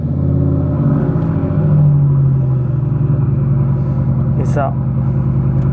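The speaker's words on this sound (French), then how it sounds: "à chaque fois que je démarre en voiture, j'ose pas démarrer quand il y a des passants parce qu'elle fait beaucoup de bruit" A loud car engine rumbles close by and revs, its deep tone swelling and then settling into a heavy idle, with a brief spoken phrase at the start.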